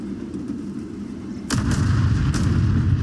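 A single heavy tank cannon shot in the video game World of Tanks, fired from a Wiesel tank on the Overlord map, a sharp boom that cuts abruptly into a louder rumbling engine drone.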